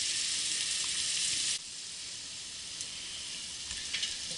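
Aubergines fry in a pan for a lamb tajine with honey and ginger. The close, steady hiss of oil drops in level partway through and then carries on as a softer sizzle with a few faint ticks.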